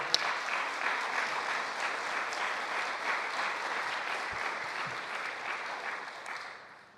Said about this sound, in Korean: 우리 참 어머님께 감사의 박수를 올려드리기